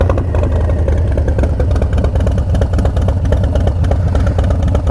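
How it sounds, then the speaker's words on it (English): A Harley motorcycle with a 131ci engine and Two Brothers Racing Shorty Turnout exhaust rumbles loudly and steadily up close outdoors, idling and revving with a deep, throbbing exhaust note, alone with no talking. "freaking love the sound of this exhaust"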